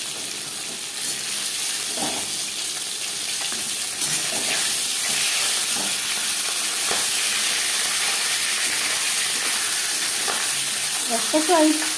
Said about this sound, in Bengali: সবার প্রথমে মাছের মাথা ভেজে নেব।